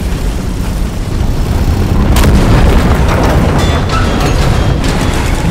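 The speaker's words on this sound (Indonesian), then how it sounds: "Kenapa sih pada meledak-meledak?" Explosions in the video game Deep Rock Galactic boom loudly in a dense continuous barrage, with heavy low rumble and sharper blasts layered over one another.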